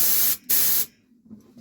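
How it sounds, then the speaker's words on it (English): A touch-up spray gun set almost off sprays paint onto a guitar in two short, close hissing bursts, followed by quiet. "It's like a touch-up gun. I've got everything turned right down. It's almost off. I'll spray a little."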